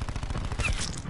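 Rapid automatic gunfire rattles in a Call of Duty match on the Nuketown map, a dense quick burst of shots at close range lasting about a second.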